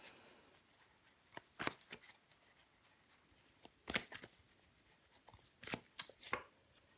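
Tarot cards handled and laid down on a table during a reading, a few soft scattered slaps and shuffles spaced irregularly over several seconds, faint and close with no voices.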